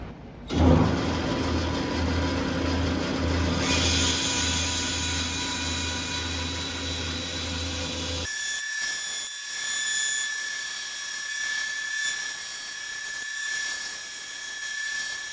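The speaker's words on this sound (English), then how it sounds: "Now we will cut out the outline of our hammer handle." A saw blade cuts the outline of a wooden hammer handle: a loud, steady machine roar with a droning hum for about eight seconds, then it drops to a quieter running whine with a thin high tone.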